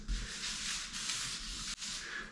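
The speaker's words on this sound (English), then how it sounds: "Do not skip sanding between coats, and especially before the final coat." Wood stained weathered grey and coated in polyurethane is sanded by hand between coats in straight lines, giving a steady, quiet, close-up scratchy rubbing in three even strokes.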